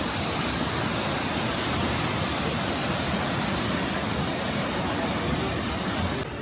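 Kegon Falls at Nikko roaring as a steady, dense wash of falling water, loud and constant from start to finish with no voices.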